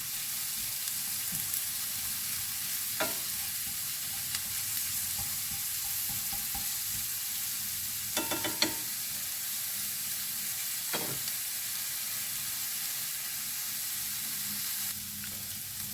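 Onions sizzle steadily as they fry in a pan for a spinach and gouda tart, a constant hiss with a few sharp stirring clatters near and moderately loud, no talk.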